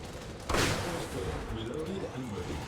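A single heavy boom from a big cannon in the Project Nimbus game, one loud blast with a rumbling tail fading over a couple of seconds against steady background noise.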